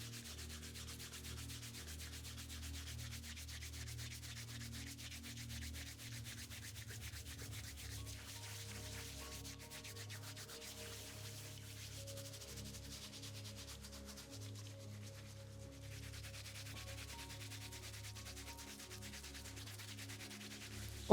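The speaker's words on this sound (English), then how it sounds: "I'm using Tropics Body Scrub to gently scrub and exfoliate the feet" Feet being gently scrubbed and exfoliated with a body scrub during a pedicure on severely cracked heels, a faint, continuous soft rubbing with no talking.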